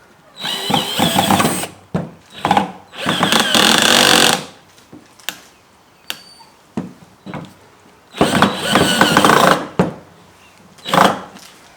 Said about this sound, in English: drill some holes into the wood for screws to go into.